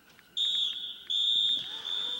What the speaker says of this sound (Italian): Fischia tre volte Luca Calaiò e cala il sipario sul Triestina Stadium